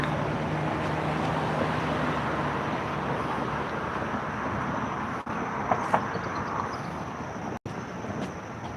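Steady roar of road traffic nearby, a continuous broadband rumble of passing vehicles with no talking.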